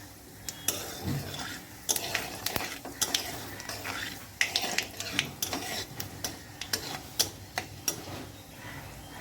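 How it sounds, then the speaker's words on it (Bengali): Utensil clinks and scrapes against a pan, with quick irregular taps over a faint background sizzle of dried red chilli and cumin tempering in hot oil, close by and fairly quiet. "আলু জিরে ফোড়ন দিলাম"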